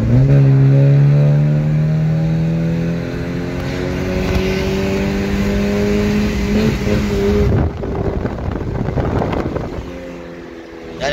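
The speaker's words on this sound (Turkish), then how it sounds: "Birden bir egzoz dinleteyim size şimdi." A car's exhaust rumbles and revs up while driving in third gear, a steady engine drone rising and falling in pitch, loud and close, continuous throughout with no voices.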